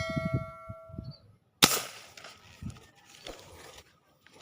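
One sharp, loud gunshot rings out while fishing and hunting, after some low murmuring sounds and a brief tone, then fades into quieter background noise.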